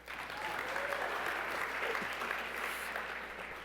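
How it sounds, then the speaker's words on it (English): Audience applause at an online journalism awards ceremony, a steady wash of many hands clapping that holds at an even level for the whole stretch, moderately distant, with no talk over it. "That deserves a round of applause."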